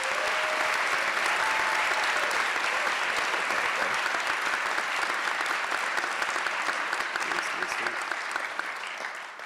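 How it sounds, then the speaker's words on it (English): Sustained applause at a Davidson College convocation honoring faculty, staff, families and friends, dense clapping from a large indoor crowd lasting nearly ten seconds and tapering slightly at the end. "so let's give them a big round of applause."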